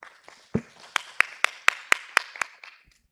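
At an academic conference in Korea, an audience welcomes a university professor to the podium. About ten sharp claps come at a steady, even pace in an otherwise quiet room, then fade out.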